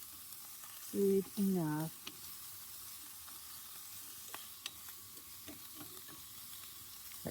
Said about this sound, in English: Put it inside there. Brown it up real quick.